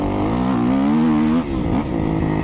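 A Kawasaki KX250F motocross bike engine holds a high, buzzing rev that wavers and then drops briefly before climbing again, loud and close with no talk.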